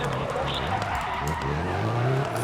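A rally car accelerates hard in the video game Dirt Rally, its engine droning loud and steady with rising pitch and gravelly tire noise underneath.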